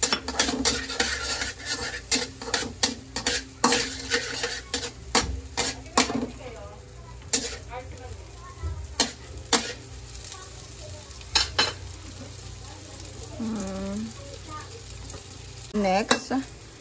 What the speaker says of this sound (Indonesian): Tapos lalagyan ng bawang. Igigisa.